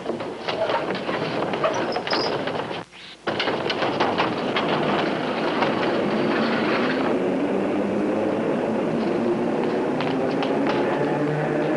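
An underground subway train rumbles and clatters loudly on the rails, briefly dropping out before roaring back into a steady, sustained rush.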